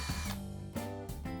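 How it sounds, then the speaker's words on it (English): A power drill bores pilot holes in an aluminum strip for a picture-frame hanging system, giving short whining bursts that rise and stop between brief pauses. "I first drill pilot holes"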